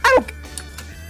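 A dog gives one sharp bark at the start, followed by faint rustling and quiet background noise.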